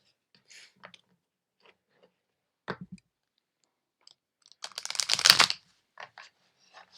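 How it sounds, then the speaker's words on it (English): Oracle cards being shuffled by hand, a scattered run of light papery clicks and flutters building to a dense riffle burst near the end, close and fairly quiet with no voice. "I'm going to give it one more good shuffle."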